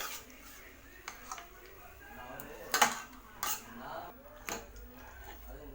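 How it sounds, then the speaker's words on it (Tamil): Prawn gravy is stirred from the bottom of a pan, giving a handful of light metallic clanks and scrapes, fairly faint, with a person talking throughout. "நல்லா அடியிலேருந்து ஒரு டைம் நல்லா கிளறி விடுங்க."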